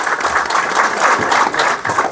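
A crowd at a BJP political gathering claps loudly for new members joining the party, steady close applause with rhythmic swells throughout.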